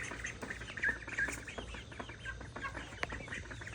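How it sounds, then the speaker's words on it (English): Backyard chickens and ducks in their coop, with a busy mix of clucks, quacks and chirps from several birds close by, irregular and overlapping, with no talk. "I've got all of my birds here, my ducks, my chickens"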